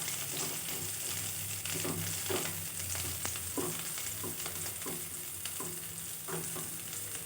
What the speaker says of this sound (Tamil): வாழைப்பு குழம்பு செய்கிறதுக்கு தேவையான பொருளை வதக்குறோம் ஒரு எண்ணெய் ஊற்றிட்டு ஒரு பெரிய வெங்காயம் சேர்த்துருக்கேன்